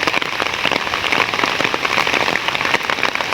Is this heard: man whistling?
no